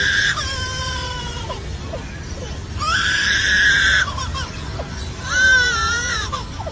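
Loud, wailing cries like an infant's, coming in three drawn-out bursts over a noisy outdoor background; the cries are a lyrebird's close imitation of a crying baby.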